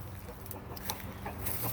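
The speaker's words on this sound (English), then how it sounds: "the rooster, he likes to actually call the other chickens to let them know that there's food" A rooster clucking and calling to the other chickens at a backyard chicken coop where food has been put out, with short clucks scattered over steady outdoor background noise.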